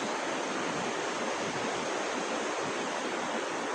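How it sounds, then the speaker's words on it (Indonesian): Cisadane river rushing beneath a bridge, a dense, steady roar of flowing water filling the scene at constant loudness without pause. "Karena memang ini aliran sungai Cisadane teman-teman."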